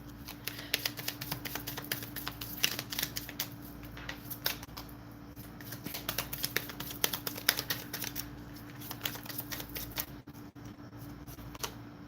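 A deck of tarot cards is shuffled close up, a long series of rapid dry clicks and flicks that come in uneven clusters against a low steady hum.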